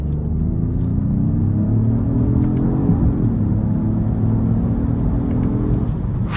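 2025 Genesis GV80 Coupe E-SC accelerating hard, heard from inside the cabin as a loud, steady engine roar with rising pitch through the pull and a low rumble beneath.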